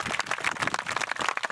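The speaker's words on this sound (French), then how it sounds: "On peut les applaudir." An outdoor audience at a medieval festival falconry show clapping in a dense burst of applause, steady and moderately near, with no voices.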